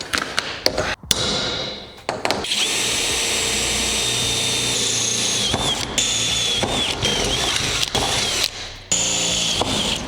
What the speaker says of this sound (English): Now I just have to drill those.